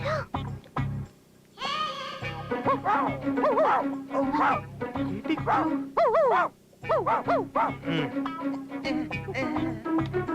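A person imitates a dog, letting out a string of loud, close, barking yelps, with other voices in between.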